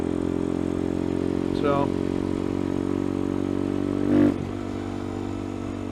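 A motorcycle engine idles steadily up close, broken by two quick throttle blips that rise and fall, the second louder; a voice briefly speaks over it.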